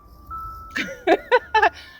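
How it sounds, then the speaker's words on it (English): An ice cream truck plays its melodic jingle somewhere nearby in a neighborhood: a few bright, chiming musical notes in short bursts over quiet background hum. "Oh, the ice cream truck."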